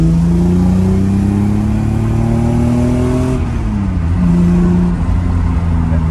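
An 80s Toyota Supra MKIII engine pulls hard and loud from close by, rising steadily in pitch through the gears with a brief drop around a shift, then climbing again, with no one speaking over it.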